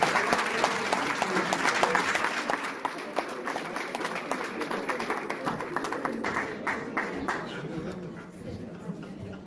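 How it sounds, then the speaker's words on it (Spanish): Audience applause at an evening academic conference on constitutional control, honouring Dr. Julio Barón: dense clapping from a crowd, loudest in the first seconds and then steady with a few distinct claps, with faint voices mixed in. "pido que reiteremos el aplauso al doctor Julio Barón"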